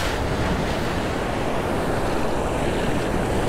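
Big surf breaking on the beach at Padre Island National Seashore, a loud, continuous wash of crashing waves mixed with wind buffeting the microphone, with no voices.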